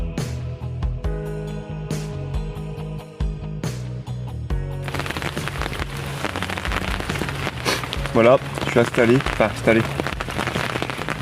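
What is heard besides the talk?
heavy rain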